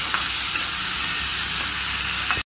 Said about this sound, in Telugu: దీనిలో ఇప్పుడు మనము దంచి పెట్టుకున్న ఉల్లిపాయలు వేసుకోవాలి. ఉల్లిపాయలు వేస్తున్నాను.